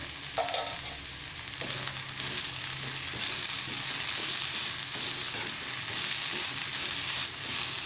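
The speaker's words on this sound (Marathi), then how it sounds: "आणि परतून घेत आहे आणि मीठ घालत आहे" Taklyachi bhaji leaves being sautéed in a pan, a steady close sizzle with scraping and stirring sounds as the greens are tossed, continuous throughout.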